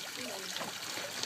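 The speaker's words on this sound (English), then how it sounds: "There's a side view of the leaf with the water streaming over it." Water streams over a leaf-shaped fountain in a home water-feature installation, a steady close trickle and splash with no clear talk over it.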